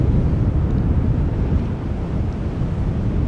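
Gusty wind buffets the microphone at Amsterdam Schiphol Airport after storm Isha, a loud, continuous low roar that rises and falls slightly, with no voices.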